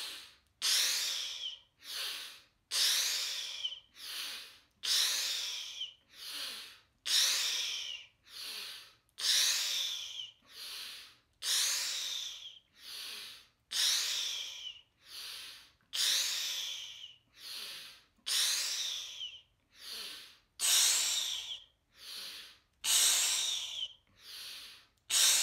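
Breathwork exercise: a long series of forceful, hissing exhalations squeezing air out of the lungs, evenly paced about one per second, loud and close with brief pauses between, no talking.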